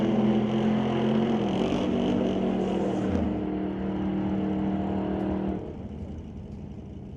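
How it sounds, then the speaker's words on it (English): Old-time drag race at Mission Raceway Park between a 1932 Plymouth and a 1936 Chevy, their engines roaring loudly and steadily near the track before the sound drops off toward the end. "Gonna have to try and run down the 1936 Chevy of Frank Elgie."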